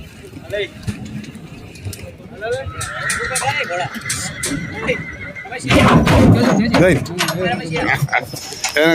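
A mare whinnies several times amid crowd chatter and mechanical clatter at a village fair, the calls rising and falling over busy outdoor noise.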